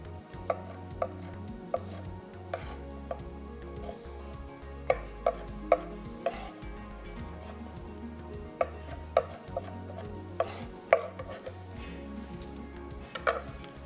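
Knife chopping food into small bite-sized cubes on a board, a steady run of sharp, close knocks with a few quick bursts, under a low humming background.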